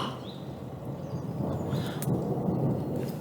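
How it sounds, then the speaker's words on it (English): Thunder rolls in a low, sustained rumble that swells toward the end, with faint bird chirps and other small sounds above it and no talking. "Do you hear the thunder?"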